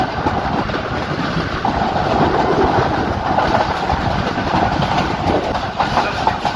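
The Pakistan Express rolls toward Rawalpindi near Chaklala bridge, a steady, dense rumble of wheels on track with faint clickety-clack, heard continuously from on board.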